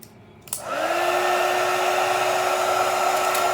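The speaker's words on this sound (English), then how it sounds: "Get your heat gun." A heat gun switches on and blows steadily, shrinking shrink wrap around a tumbler, a close, loud continuous whine and rush of air with no talking.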